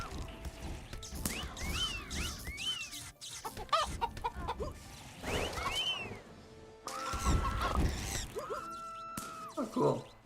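Enemies magically turned into chickens in the tower-defense game Cursed Treasure 2 cluck and squawk repeatedly, mixed with game sound effects, impacts and a continuous background hum.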